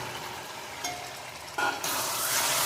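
Chicken tripe with spice masala sizzles and fries in a pan, a steady hiss that jumps louder near the end as the mixture is stirred.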